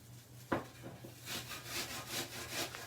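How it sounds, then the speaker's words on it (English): An apple shredded on the coarse side of a kitchen grater: a sharp knock, then a series of rhythmic raspy scraping strokes, close and clear with no talking. "So I am just going to shred this apple. Use this side of the grater right here."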